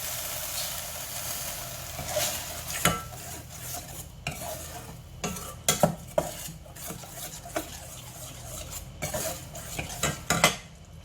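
Green curry paste stirred in a pot as coconut milk goes in for a Thai shrimp green curry: soft sizzle under irregular spoon scrapes and sharp clinks against the pot, fairly quiet overall.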